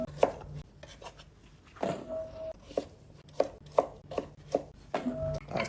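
Sweet potato being rough-chopped with a knife on a cutting board, a series of crisp, uneven chops close by in quiet surroundings.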